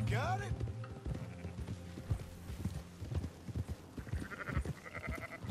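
Sheep bleat while being herded on horseback in Red Dead Redemption 2, short nasal cries scattered over a busy bed of clip-clopping hooves and game ambience, with a voice speaking over part of it.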